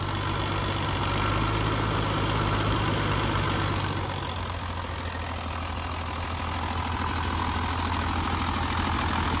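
A Yuchai 260 diesel engine idles steadily and loudly up close, a continuous low rumble with a faint knocking texture and mechanical vibration that eases slightly partway through and then holds even.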